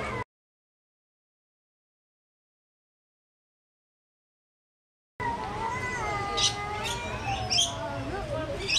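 Birds in a zoo bird enclosure at Zoo Tampa at Lowry Park chirp and squawk in rising and falling calls after a long stretch of silence, with several sharp high calls close by.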